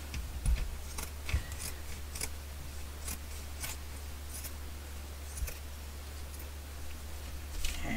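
Scissors snip through fabric strips in a quiet craft setting, a few faint sharp clicks spaced irregularly over low steady background hum.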